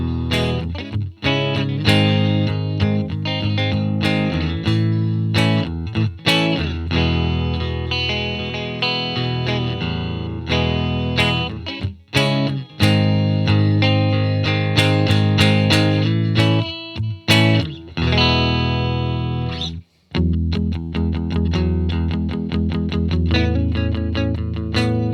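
A dry Squier Classic Vibe '60s Mustang electric guitar, reverb off, plays chords and picked notes with clear attack, continuous and fairly loud, with no spoken voice.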